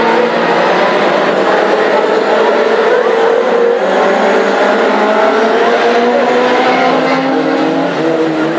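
Classic hot rod race cars roar past continuously at Hednesford oval, several engines droning and overlapping loudly with rising revs as the pack streams by close up, no pause between cars.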